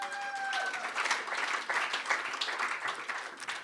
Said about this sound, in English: a warm round of applause, please